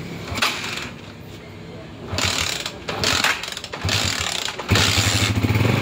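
A motorcycle engine is started and then idles after a new voltage regulator has been fitted, with mechanical clicking and whirring building into a steady running engine over roughly six seconds. A person talks over it now and then.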